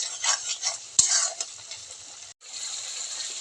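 Spice paste with cumin powder, salt and green chilies sautéing in a pan for egg kasha, heard as bursts of soft sizzling and stirring scrapes with a sharp utensil knock near the start and no talking.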